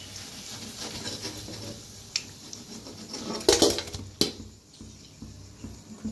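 Fried kadhi vadas lifted out of a frying pan onto a plate, with faint clinks and scrapes of utensils against the pan and plate, a few brighter metallic taps standing out over low background sizzle.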